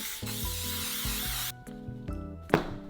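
Canola oil cooking spray hisses steadily from the can for about a second and a half, close and loud over a light thumping background, then stops.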